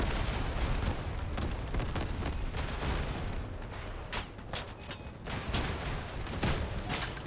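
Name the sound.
Cicada rocket launcher firing many rockets in a video game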